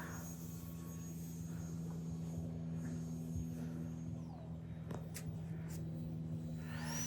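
An E-flite UMX Viper 30mm RC jet in flight gives a steady electric whine over a low droning hum, its pitch sliding downward partway through, moderately distant with no talking.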